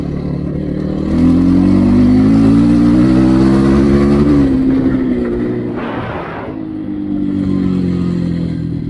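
Kovi Max 300 enduro motorcycle accelerating in fourth gear, a loud steady mid-pitched engine drone that climbs in pitch, eases off briefly, then pulls again, heard close and alone.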